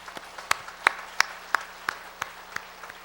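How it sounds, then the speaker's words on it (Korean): Church congregation gives a sparse, quiet round of applause for the choir, orchestra and piano and organ accompanists, a few distinct claps spaced roughly evenly over a faint background. "우리 한번 찬양대 오케스트라 우리 피아노 오르겐 반주자 모두 박수"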